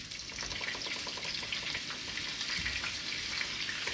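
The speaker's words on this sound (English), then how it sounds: "this is when I'm going to put that heaping nice big chunks of butter" Large chunks of butter melt in a pan beside golden-browned chicken cordon bleu, making a soft, bubbly sizzle that hisses steadily at moderate volume, no talk.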